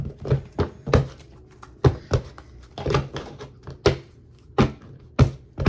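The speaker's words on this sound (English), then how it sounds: "Sorry, it's a whole bunch that came out, so I'm gonna try to shuffle again." Tarot cards being shuffled by hand, with about a dozen sharp, irregular taps and slaps of the deck heard close up and fairly loud, with no talking.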